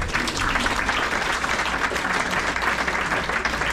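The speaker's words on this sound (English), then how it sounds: "a round of applause for Joe again and Adele" An audience at a community meeting applauds, a dense, steady clapping that holds evenly throughout.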